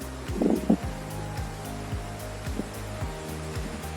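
Fast-flowing mountain stream water in Spiti Valley rushes past in a steady, dense roar, continuous and fairly close, with faint low thumps repeating underneath and no voices.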